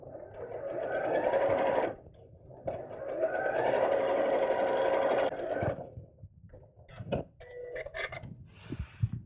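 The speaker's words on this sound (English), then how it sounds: "open these two out, side seam on top of the base, and sew straight across" Domestic sewing machine sewing a side seam straight across a bag base, two sustained runs of fast whirring stitching followed by clicks and fabric handling.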